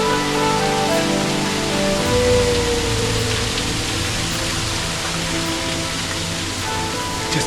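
Little waterfalls flowing beside vermilion bridges over water, a steady, dense rushing splash that stays even and fairly close throughout.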